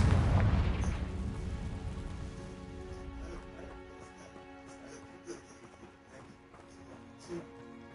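A Confringo fire spell bursts in Hogwarts Legacy with one loud, deep explosive boom that rolls off over a few seconds, followed by faint scattered crackles and small thuds.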